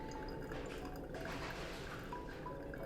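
Brewed coffee draining from a Clever Dripper, a steady soft liquid trickle and patter running continuously and close.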